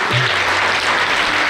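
Audience applause at a primary school farewell ceremony for the retiring principal: loud, dense, continuous clapping with a low hum beneath and no talking.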